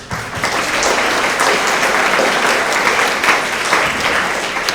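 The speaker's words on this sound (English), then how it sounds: "Another round of applause for all of our physical education winners" School assembly audience clapping for sixth-to-eighth-grade physical education award winners, a dense, loud, even applause that fills the whole stretch without pause.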